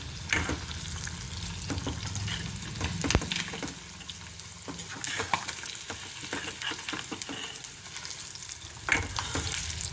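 Murrel fish pieces fry in hot oil on a low flame, a steady close sizzle with stirring clatter and scraping pops scattered throughout, with no talking.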